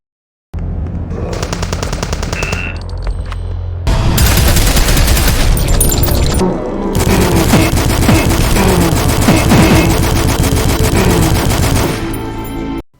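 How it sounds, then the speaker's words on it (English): Video game machine guns from Proteus and Dusk firing loud continuous automatic bursts, one shorter volley first, then two longer, heavier volleys after a brief gap. "each showcasing the respective game's version of the machine gun"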